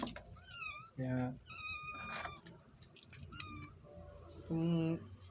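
Pet cat meowing several times at close range, with two loud drawn-out meows near the start and end and shorter mews between, while a person talks softly in Filipino in the background.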